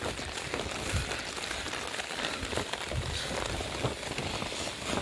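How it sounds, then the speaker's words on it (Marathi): Steady rain falls outdoors on a village road beside houses, a dense, even hiss of drops on surfaces that is continuous and moderately loud, with no talking. "तर पाऊस आला आहे त्याच्यामुळे थोडाफार प्रॉब्लेम होऊ शकतो."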